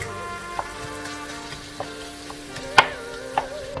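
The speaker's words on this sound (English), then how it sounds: "the onions have been cooking for around 10 minutes now" Onions cooking slowly in a covered pan for chicken with saffron, a soft, steady low sizzle with occasional faint pops and one sharper tick, quiet and close.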